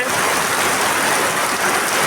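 Heavy rain pours down steadily in a dense, even hiss, close and continuous with no letup, drumming on surrounding surfaces without any voices.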